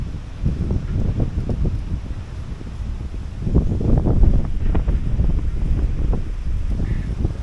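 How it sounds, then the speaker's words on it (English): Gusty wind blows outdoors, a steady low rumble buffeting the microphone, swelling into a stronger gust midway and staying blustery to the end, with no talking. "It is getting very breezy, though, I will acknowledge."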